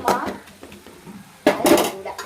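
A metal lid is set onto a cooking pot of onion and tomato curry, producing two short bursts of bright clattering clinks separated by a quieter pause.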